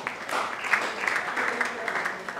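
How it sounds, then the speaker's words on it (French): Congregation clapping together inside a Pentecostal church, a steady dense wash of applause that holds at an even level throughout, with voices mixed into it. "On applaudit pour le frère."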